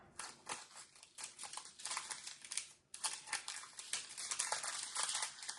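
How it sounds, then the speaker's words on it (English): Scissors snip and crinkle through the plastic pieces of a Diamond Dotz diamond painting kit, a dense run of close crisp cuts and rustles with a brief pause near the middle. "Cut these up."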